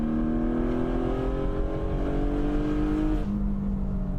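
A Porsche Spyder engine revs hard and climbs quickly in pitch, then drops sharply near the end, loud and close with no talking.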